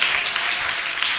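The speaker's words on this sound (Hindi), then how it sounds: "जोरदार ताली बजाकर हमारा परमेश्वर के लिए हम धन्यवाद करें।" A church congregation at a Bible class in Khanpur claps loudly in thanks to God, a dense, steady wash of many hands close by and sustained throughout without a break.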